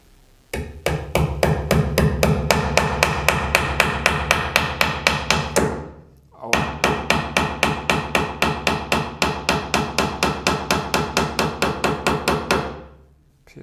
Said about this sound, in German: wir nageln mal das jetzt so